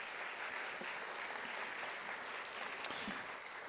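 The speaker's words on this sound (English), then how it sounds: "So let's give them all a round of applause." Audience applause at an education office's kickoff celebration, a steady, even wash of clapping from a fairly large crowd lasting the whole stretch with no talk over it.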